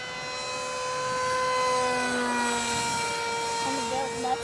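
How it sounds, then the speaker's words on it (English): A small student-built model aircraft makes a low flyby, its engine a steady whine that holds across the pass and shifts in pitch toward the end, with faint background noise throughout. "I'll do one more little flyby so you guys can see it."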